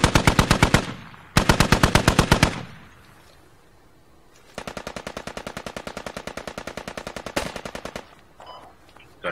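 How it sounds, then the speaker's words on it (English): Automatic gunfire in the video game Squad, loud rapid bursts of machine-gun fire, one long sustained stream of shots following shorter volleys, close and dominant with no talk over it. "We're under fire."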